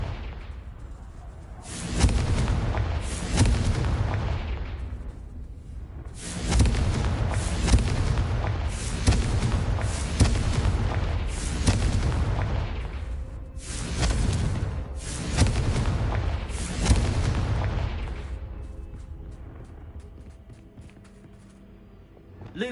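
Confringo spell explosions in the Hogwarts Legacy video game boom in repeated heavy bursts, several loud blasts with rumbling tails and crackling debris, fading into a quieter low rumble at the end.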